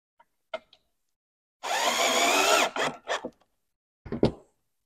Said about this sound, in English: So it is important to pre-drill when you're assembling wood pieces like this